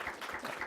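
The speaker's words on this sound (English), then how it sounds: "So if everyone could join me for another round of applause for Amit." Audience applause at a policy panel discussion on U.S.-India counterterrorism, a short steady burst of clapping from a room of listeners.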